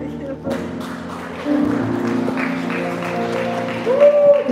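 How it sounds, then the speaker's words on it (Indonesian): Applause rises from a crowd at a Christian wedding blessing ceremony, a steady patter of clapping mixed with an amplified voice speaking over it and a sustained musical tone. "Kita berikan tepuk tangan yang meriah"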